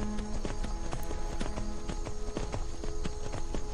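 Horse hooves clip-clop steadily in the Skyrim video game during bareback riding, a quick regular rhythm of close, crisp strikes that continues without a break over a steady background.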